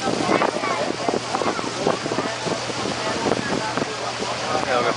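A small tour boat carries passengers on the Krka river in Krka National Park, its motor and the water churning steadily beneath wind buffeting the microphone, while a person talks over the rumble.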